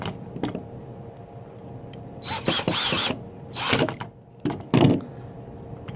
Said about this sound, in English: we're going to use our screwdriver again